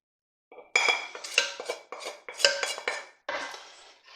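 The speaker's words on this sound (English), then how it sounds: "Going to give that a light stir." Short rib chili with brown sugar, chili powder, cumin and other seasonings is lightly stirred in a pot, a spoon knocking and scraping against the pot in a run of distinct clinks and scrapes after a moment of silence.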